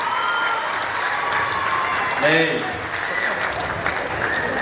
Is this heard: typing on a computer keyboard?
no